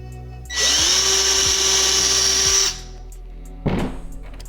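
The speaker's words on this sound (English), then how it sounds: "drill this next one" A power drill whirs loudly for about two seconds while drilling screw holes in a fishing kayak hull, then stops, followed by a brief clatter and a short second burst.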